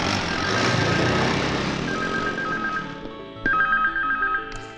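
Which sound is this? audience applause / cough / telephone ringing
telephone ringing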